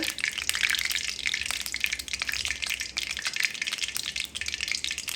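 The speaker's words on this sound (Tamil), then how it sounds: "எண்ணெய் வந்து கொதித்து கொண்டிருக்குது" Hot oil bubbling steadily in a pan on a village stove, ready for frying cassava vada, a dense crackling hiss with scattered small pops running throughout, fairly close.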